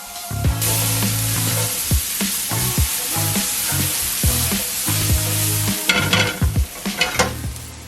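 Shallots and fresh chopped garlic sizzle steadily in a hot pan, with repeated scraping and stirring knocks from a utensil over the continuous frying hiss, close and fairly loud throughout, with no talking.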